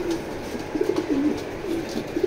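A domestic racing pigeon coos nearby in a loft, soft low throaty calls repeating over a quiet background.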